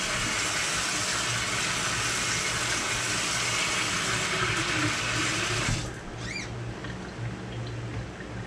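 Tap water runs steadily at close range to bottom-water houseplants such as an African violet, a loud continuous splashing rush that cuts off near the end, leaving a quieter room with a few faint trickles.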